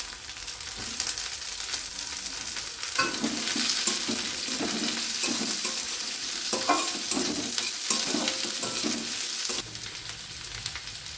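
Onion chunks and capsicum stir-fry in a hot pan with a continuous bright sizzle and repeated scraping stir strokes, close and steady throughout with no speech.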